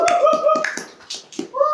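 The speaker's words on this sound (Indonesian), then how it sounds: "Tepuk tangan semuanya." An audience at a podcast recording claps in a short, loose burst of separate hand claps, mixed with voices and a little laughter.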